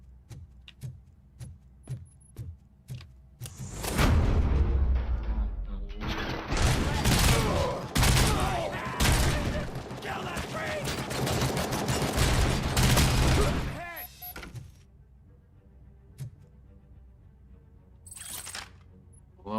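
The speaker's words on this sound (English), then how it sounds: "Shots fired." Gunshots ring out in a loud, dense burst of rapid cracks and bangs lasting several seconds, with a few scattered sharp reports before and after the main volley.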